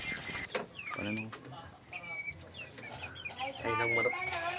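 A chicken clucks in a few short, fairly close bursts, with other clucking and rustling around it.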